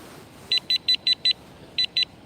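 A fishing bite alarm on a pike rod sounds with sharp, high electronic beeps, five in quick even succession, a short pause, then two more, clear and close over faint outdoor background.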